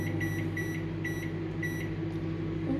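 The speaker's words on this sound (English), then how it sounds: "I've only got a dinky microwave." A small microwave oven hums steadily nearby, a constant low drone with a repeating electronic beeping pattern over it, with no speech.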